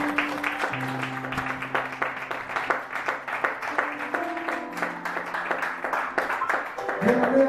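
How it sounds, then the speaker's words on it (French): A church congregation claps along through sustained singing and music, a steady rhythmic patter of hands under the sung voices and held organ-like tones. "Acclamons pour le Seigneur."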